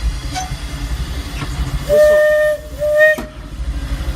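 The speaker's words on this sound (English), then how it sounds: "Train whistles have different number of chimes in it." A Disneyland Railroad steam train whistle sounds twice, a steady chime-like tone each lasting about half a second, over the low rumble of the nearby train.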